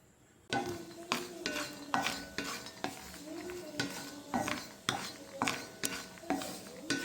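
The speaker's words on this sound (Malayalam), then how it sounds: "ഇതുപോലെ നമ്മുടെ ബദാം കരിച്ചെടുക്കണം." Almonds are stirred and roasted dark in a pan, with a steady series of scraping, clattering stirs against the metal and a faint sizzle between them, close and fairly quiet.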